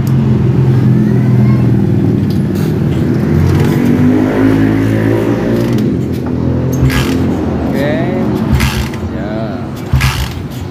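Honda CB motorcycle with hard-starting trouble and a faulty tensioner, its engine running close by with uneven revving and mechanical clatter, while people talk over it.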